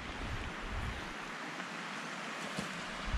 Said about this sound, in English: I like the idea that this has moving water